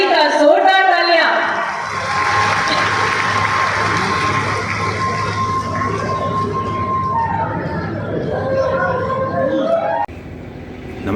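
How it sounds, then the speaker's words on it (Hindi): Loud applause and cheering from a large crowd, sustained for several seconds with shouts and a steady tone underneath, then abruptly dropping off. "जोरदार तालियां।"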